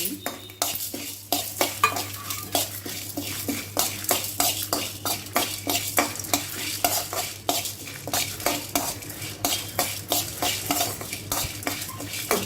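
Dried red chillies, coriander seeds, fennel, cumin and black pepper fry in a pan under a spoon, with rapid, steady scraping and clattering strokes over a soft sizzle and no voices.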